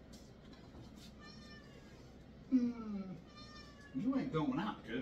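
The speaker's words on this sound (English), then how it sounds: "That's our cat" A domestic cat meows several times at close range, drawn-out wavering calls separated by pauses, with a person speaking in between.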